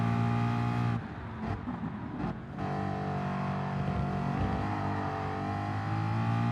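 A Group 3 Mustang race car in Gran Turismo Sport roars steadily, briefly drops off and stutters on a lift, then climbs back into a sustained loud accelerating drone, with no voices.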